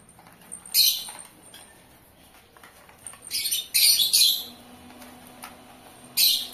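Tame pet birds in a cage chirp while being fed chickpeas, with short bright bursts of chirping at intervals over a quiet indoor background, some louder and closer than others.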